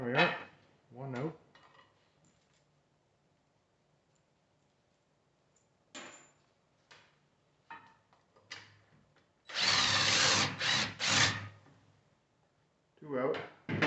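Bolt being worked out of a 1980 Triumph TR7 rear axle, with scattered metallic clinks and scrapes, a burst of harsh grinding tool noise in the middle and brief speech at the start and end.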